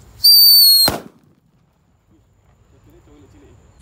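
A shrill whistling burst ends in one sharp, loud bang of a firecracker up close, followed by quiet with faint voices in the background.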